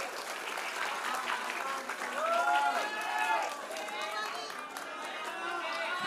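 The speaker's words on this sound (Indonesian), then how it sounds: "Kita tepuk tangan dulu dong untuk Bang Kava" Crowd at a public question-and-answer session with a presidential candidate in Pontianak applauds steadily, the clapping mixed with voices and chatter, moderately distant and even in level.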